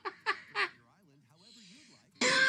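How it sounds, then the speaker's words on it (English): Three short, sharp coughs come in quick succession, followed by a quiet hummed voice and then an abrupt loud burst of noise at the end. "The cough is back."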